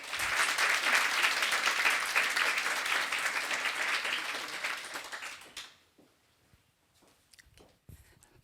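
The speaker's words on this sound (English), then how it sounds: "So please give a warm applause to her." An audience at a science diplomacy session applauds a moderator, steady full applause lasting several seconds before fading out, leaving a quiet room with a few scattered sounds.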